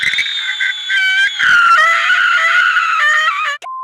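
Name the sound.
woman screaming in Kousoku Sentai Turboranger TV show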